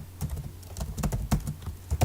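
Code is typed on a computer keyboard as a close run of uneven key clicks and taps, some louder than others, with no talk.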